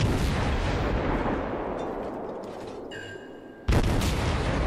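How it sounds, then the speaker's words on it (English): Destroyer guns of the tier 7 American ship Mahan fire in the naval battle game World of Warships, heavy booming blasts with rolling rumble, then a sharp fresh volley near the end. "We just get to bludgeon this guy about the face with our wee little guns."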